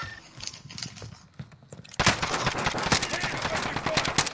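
Rapid gunfire in Call of Duty: Warzone on Rebirth Island, a few scattered shots and then a dense, loud burst of automatic fire, with quiet voices underneath.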